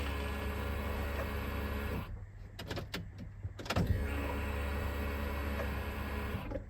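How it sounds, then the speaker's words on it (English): A fuel pump whirs steadily in a 2005 R53 Mini Cooper S with the ignition on. The hum drops out briefly midway, when a few clicks are heard, then resumes at the same steady level. "Just turn the ignition on and get the pump whirring away."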